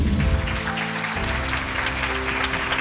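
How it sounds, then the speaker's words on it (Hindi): An audience at the grand finale of a singing reality show applauds loudly and steadily for several seconds, with a dense wash of clapping close by and a voice faintly underneath. "जोरदार ताली बजाइए"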